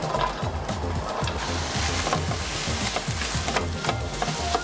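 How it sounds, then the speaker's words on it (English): Chopped sausage, onion and garlic frying in a hot pan over medium heat, a steady sizzle with repeated scraping stirs and clatters throughout, close and continuous. "Once hot, add the chopped sausage and onion. Cook on medium heat."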